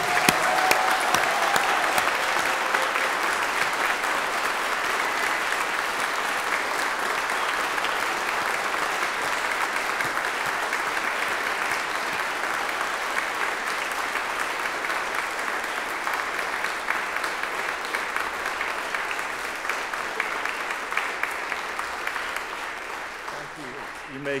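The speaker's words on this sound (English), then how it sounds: "that was a very long round of applause" A graduation ceremony crowd gives a long, sustained round of applause, dense clapping holding steady and loud for over twenty seconds before easing slightly at the end, with faint voices mixed in.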